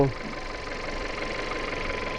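A car engine idling just after an engine wash, left running so the water dries off, gives a steady, even mechanical hum at close range.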